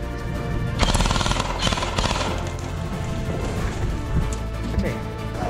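Rapid bursts of gunfire ring out in a battle royale video game, dense and loud over a rumbling background, while a commentator talks over the action.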